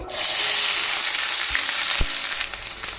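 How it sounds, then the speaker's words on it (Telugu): Chopped onions, green chillies and curry leaves sizzle in hot oil, a steady loud frying hiss that holds throughout with a couple of soft stirring knocks near the end. "ఇవి చక్కగా దోరగా వేగించాలి ఈ ఉల్లిపాయ ముక్కలు బాగా మెత్తగా అయిపోవాలన్నమాట"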